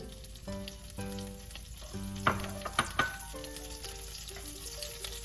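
Steady sizzling of beaten eggs frying as an omelette in a hot pan, with a few scraping utensil clinks over a background of tonal music.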